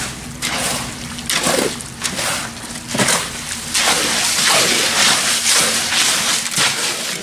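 Concrete being mixed with water and fiberglass for stone step forms, giving repeated wet sloshing and scraping strokes at a steady rhythm, close and fairly loud, with a low hum underneath.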